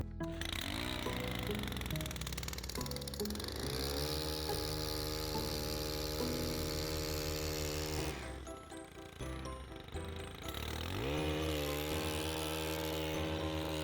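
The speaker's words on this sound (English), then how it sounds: "Using a head trimmer to cut down wheat is much faster." A hedge trimmer cuts through standing home-grown wheat in a garden, a loud continuous buzzing motor with rising and falling pitch, briefly easing off near the middle before revving up again.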